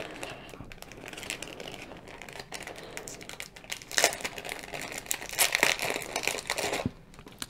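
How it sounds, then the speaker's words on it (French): Paper being cut with a die for making flowers gives faint crinkling and rustling, with scattered crisp crackles and handling noises that grow a little louder toward the end. "Donc là je vais couper le dies."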